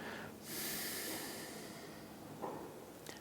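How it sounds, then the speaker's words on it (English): A long, steady outward breath during a yoga class, heard as soft, close airy hissing that fades out, followed by a brief intake. "we'll start by breathing all the way out"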